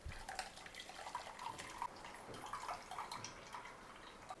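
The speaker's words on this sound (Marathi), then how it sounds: "आपण हे गाळून घेऊया" Coconut milk, squeezed out with warm water, drips and trickles through a strainer, a faint, close pattering of small drops with no talking.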